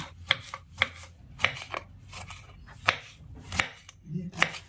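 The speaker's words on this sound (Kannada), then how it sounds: "ಟೊಮೊಟೊ ಕಟ್ ಮಾಡ್ಕೊಳ್ಳೋಣ" Knife chopping tomatoes on a board while preparing a Kannada-style tondekai chitranna breakfast, giving about eight sharp, evenly spaced cuts close by, with no talk.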